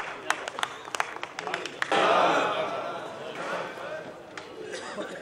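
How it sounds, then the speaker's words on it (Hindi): Audience applause at a poetry gathering welcoming a guest poet, a few scattered claps at first, then swelling into a steady wash of clapping that carries on to the end. "जोरदार तालियों से इस्तकबाल कीजिए मेहमान शायर ज़हीर अख्तर साहब का"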